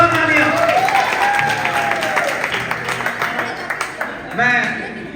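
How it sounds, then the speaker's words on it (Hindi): Applause at a Hapkido training event at a fighters' club in Bahadurgarh, steady clapping filling the clip as voices talk over it. "एक बार जोरदार तालियां।"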